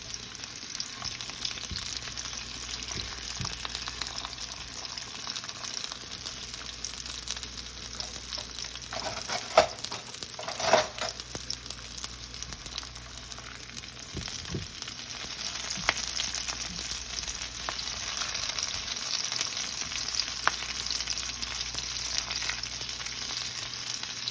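Oil sizzles and crackles steadily in a pan, with occasional stirring scrapes and louder bursts, as the cook prepares to sauté corned beef. The frying continues close and unbroken.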